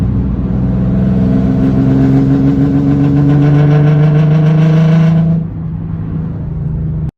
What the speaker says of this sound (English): I noticed the slight change in the exhaust note, and it sounded very weird.